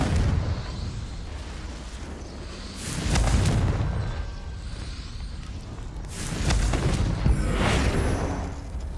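Blasting-curse explosions from the Hogwarts Legacy game: two heavy booming blasts about three seconds apart, each swelling out of a steady rumbling background, loud and close with no talking.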